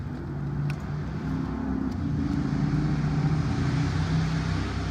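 Steady low road rumble of a vehicle going by, a continuous engine drone with faint higher clicks, no talking.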